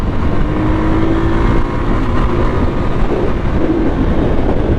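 A Voge 300 Rally motorcycle engine runs steadily while riding, held at a constant loud drone with rushing wind noise and only slight shifts in pitch throughout.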